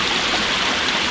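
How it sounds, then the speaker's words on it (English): Water flows steadily outdoors, a continuous, even rush like a stream, close and fairly loud with no voices. "We hear water"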